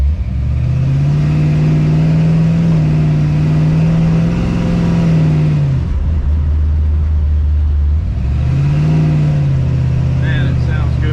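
A light truck with a small-block Chevy roller-cam engine and stall converter idles loud and close with a deep, lumpy rumble, dipping lower mid-clip before rising again, its drone steady throughout.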